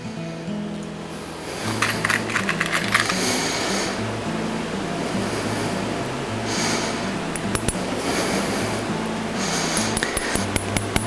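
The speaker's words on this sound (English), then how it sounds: "I'll continue nailing." Horseshoe nails are driven through a Kerckhaert SX roller shoe into a horse's front hoof, with irregular clusters of sharp metallic taps over a low background hum and rustle.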